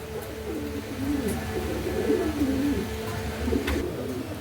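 Pigeons coo steadily and close by, a continuous low, throaty burbling with overlapping calls and faint background noise.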